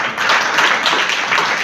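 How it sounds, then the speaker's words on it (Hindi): A crowd gives sustained, dense applause to welcome donors at a Vishwakarma Jayanti community celebration, an even wash of many hands clapping together without a break. "जोरदार तालियों से इनका स्वागत करो।"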